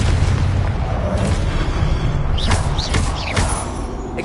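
A spell explosion in Hogwarts Legacy, a loud booming blast with crackling bursts and several sharp whooshes and pops layered over a constant rumble.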